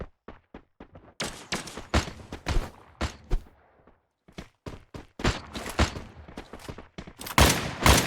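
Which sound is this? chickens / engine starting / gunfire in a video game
gunfire in a video game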